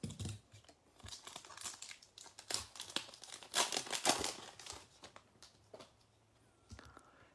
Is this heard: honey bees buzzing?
no